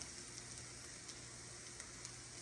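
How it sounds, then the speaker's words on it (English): Onions and tomatoes cooking down in olive oil in a pan, giving a steady, faint sizzle and hiss with small crackles, heard alone without voices. "So the onions is cooking."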